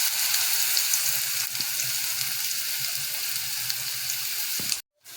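Wet cashew vegetable sautéing in a pan, a steady, dense sizzle running nearly unbroken with faint stirring scrapes, close and fairly loud, cutting off abruptly near the end.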